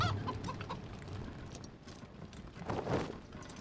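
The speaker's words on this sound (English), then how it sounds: "We've now got a chicken." A chicken clucks in Wasteland 3, a busy run of short clucking calls blended with a dense ambient game soundscape, with a louder burst near the end.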